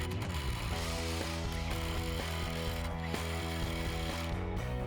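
Ratchet wrench tightening four bolts on a homemade metal post bracket, a steady run of close, fast clicking under a constant hum of background noise, with no talking.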